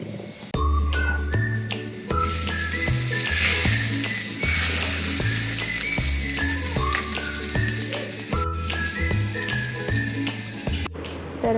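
Red chilies dropped into hot tempering oil for a chutney sizzle and hiss in a steady, loud frying wash, while a rhythmic melodic tune with a bass line plays throughout.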